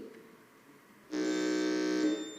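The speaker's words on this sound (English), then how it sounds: "the sound of your buzzer" A harsh electronic quiz-contest buzzer sounds once for about a second, loud and close, after a moment of quiet room tone.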